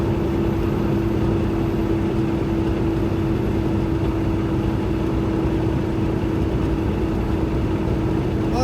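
A truck engine runs steadily from inside the cab, a loud constant low drone with a sustained hum and no talking, unchanging throughout.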